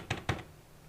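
Two quick, close clicks from pressing the G key on a computer keyboard, followed by near silence.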